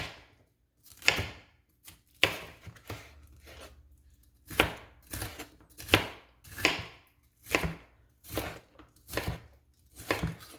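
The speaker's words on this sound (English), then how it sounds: "now we're just going to cut this pepper into slices, long slices, just like this" A knife slices a bell pepper into long strips on a cutting board. Crisp, close chops come in a steady run of about a dozen, each one sharp and distinct.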